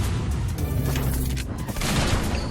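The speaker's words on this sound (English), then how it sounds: "he's using his cannon" Cannon fire in the Front Mission 3 video game: a dense barrage of booming, rattling shots rolls on for a couple of seconds, loud and heavy in the low end, with no talk over it.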